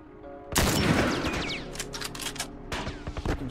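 Gunfire in The Last of Us: a loud, close burst of rapid shots, with ricochet-like whines, continues in rough volleys and then renews near the end.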